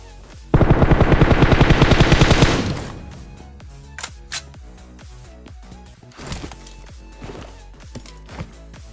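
Rapid automatic gunfire in a mobile battle-royale shooter game, a loud burst of evenly spaced shots lasting about two seconds, followed by scattered single impacts, footsteps and game effects.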